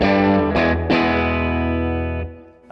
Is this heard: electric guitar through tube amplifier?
yes